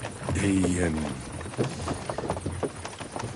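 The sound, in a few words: horses galloping, from video game Kingdom Come Deliverance 2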